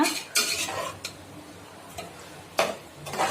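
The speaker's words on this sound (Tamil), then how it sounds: "பாருங்க, இப்போ நல்லா மிக்ஸ் பண்ணி விட்டுடுங்க." Chicken biryani masala being stirred in a pressure cooker: a few separate scraping, clinking strokes of a spoon against metal over a faint sizzle, with no talk.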